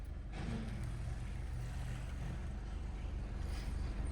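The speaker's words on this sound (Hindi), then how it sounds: "अभी ट्रैक्टर आ रहा है, अभी क्लच मत छोड़ना, बहुत तेजी से आ रहा है" A tractor approaches on a road and passes close by, its steady engine rumble heard from inside a car during a beginner driving lesson, with a swell of noise midway and constant road hum.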